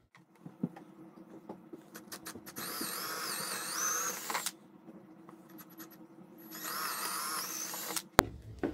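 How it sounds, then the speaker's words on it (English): A power drill whines into wood for an antler mount in two bursts of a few seconds each, close and fairly loud, with low handling rumble between and a sharp knock at the end. "I'm going to drill the wood first, and then we'll drill through the bone."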